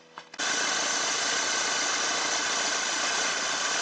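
A Mercedes Vito van engine with an injector leak cranks briefly, then catches and settles into a loud, steady idle close by, with a constant rumble and no voices.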